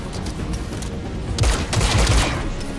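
Rapid panic-fire gunshots from a firefight in the video game XCOM: Chimera Squad, a dense burst of loud overlapping shots and booms over continuous background game noise.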